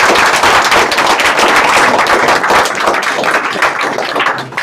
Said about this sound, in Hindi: सबसे पहले एक जोरदार तालियों से स्वागत किया जाए सभी लोगों का।